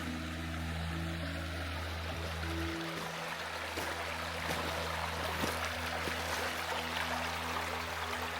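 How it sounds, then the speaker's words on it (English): Small river rapids in the Sunshine Coast Hinterland, Australia, rush steadily with a broad, even wash of flowing water that holds without pause, backed by a low steady hum. "It's so relaxing just sitting here listening to these rapids."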